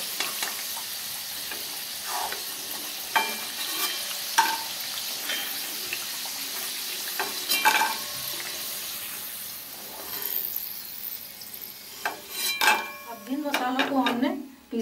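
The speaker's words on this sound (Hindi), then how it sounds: "ये पिंक आलू फ्राई हो गए अब हम निकाल लेते हैं इनको" Pink potatoes frying in hot oil in a pan, a steady sizzle with clinks and scrapes of a spoon and utensils throughout, some water-like hiss, and a few faint sounds near the end.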